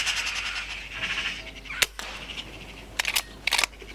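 An air rifle fires at a bird around a farm yard, giving a sharp, short crack that stands out against a faint background of distant bird calls, followed by a few quieter clicks and bursts.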